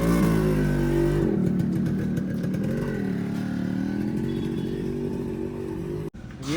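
A Yamaha RX motorcycle engine revs loud and close, its throaty note holding steady and then climbing and dropping with the throttle, with no talking.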